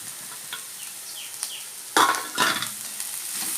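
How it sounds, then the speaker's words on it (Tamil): Bajji chillies sauté with onions in a pan, a close, even sizzle broken by scraping stir strokes and a louder clatter of the spoon against the pan partway through. "வெங்காயம் நல்லா வதங்கிடுச்சு. இப்போ நம்ம பஜ்ஜி மிளகா போட்டுக்கலாம்."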